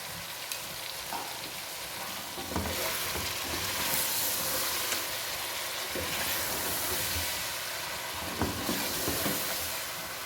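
Masala and yogurt frying in a pan for chicken korma, a steady dense sizzle running throughout with occasional stirring scrapes and crackles, fairly close and continuous with no talk.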